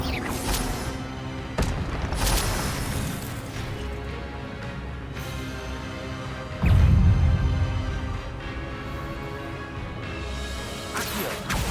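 Incendio fire spell in Hogwarts Legacy, a loud whooshing burst with a deep boom amid ongoing combat effects, whips and crashes layered over a steady game backdrop, no talk.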